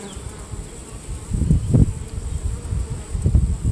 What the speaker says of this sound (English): I've got a wasp.